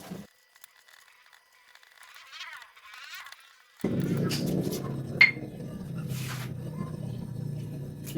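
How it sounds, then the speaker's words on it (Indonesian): Garlic ground with a little salt in a stone mortar and pestle, a steady rough grinding and crunching that starts after a quiet stretch and continues close by, with a brief sharper knock partway through. "Kita gerus."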